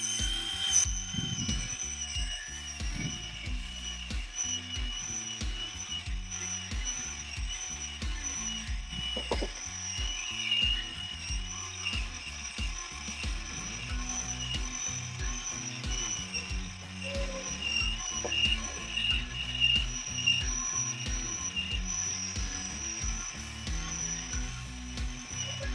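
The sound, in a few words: homemade electric motor-driven piston kitchen machine running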